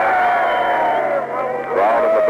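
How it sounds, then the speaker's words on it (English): An archival radio report of the end of the Berlin blockade, a happy crowd cheering and shouting in a steady roar with voices rising in the mix and a brief dip in the middle. "Crowd in the background seem rather happy about the whole thing"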